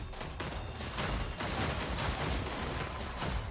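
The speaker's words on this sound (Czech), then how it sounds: "ta střelba je účinnější než ten boj zblízka" Massed unit gunfire rattles through a Total War: Warhammer 3 battle, dense overlapping volleys and crackling shots forming a continuous, loud barrage with no pauses.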